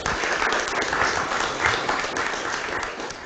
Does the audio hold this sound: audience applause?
yes